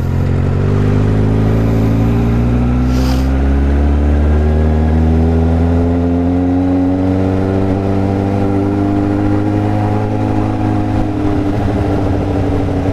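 A Suzuki GSX750F motorcycle engine revs loud and close, its pitch climbing and falling through a sustained run with rough exhaust crackle underneath.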